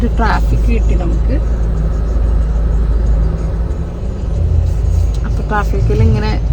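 Road traffic idles and rolls at the Lusail signal while cars wait for red lights to turn green, a heavy low engine rumble that runs continuously, with someone talking over it at the start and end.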